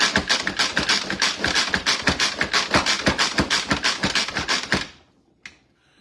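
Rapid, steady run of sharp plastic tapping from a hand-pressed manual chopper dicing onions for homemade stuffing, about four strikes a second, close and loud, then stopping abruptly followed by one faint tap.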